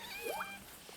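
A cat gives one short rising meow, fairly faint against quiet outdoor garden background, with no talk.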